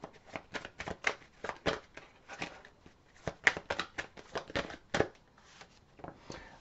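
Tarot cards shuffled by hand give crisp, close, rapid riffling bursts in an uneven rhythm, soft overall, with no talking.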